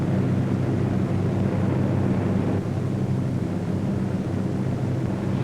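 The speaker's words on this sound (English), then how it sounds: "A formation of 18 B-17s was on its way to attack Rouen." A formation of eighteen B-17 bombers in flight on a wartime bombing mission, producing a steady, loud, dense drone of many piston engines with no pauses.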